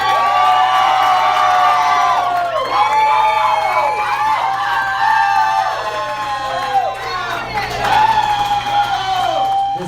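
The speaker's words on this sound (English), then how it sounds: "We're gonna do the crowd reaction." A comedy-show audience cheers and whoops loudly in a crowd reaction vote, many voices shouting and hollering together in overlapping bursts that rise and fall for several seconds.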